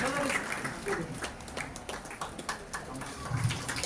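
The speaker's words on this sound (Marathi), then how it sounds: "टाळ्या तर झालंच पाहिजेत खूप" Audience at a college coaching programme inauguration claps in a loose, fairly faint patter, with a voice underneath.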